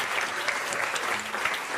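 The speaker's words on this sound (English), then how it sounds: "Give them all a round of applause." A town hall audience applauding, dense crowd clapping that stays steady and loud from start to end.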